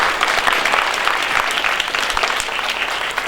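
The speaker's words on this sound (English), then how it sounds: "Let's give these candidates a round of applause." Loud, close applause from the audience at a farm bureau candidate night, brisk and dense clapping sustained throughout with no voices over it.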